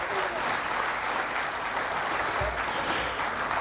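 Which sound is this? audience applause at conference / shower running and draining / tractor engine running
audience applause at conference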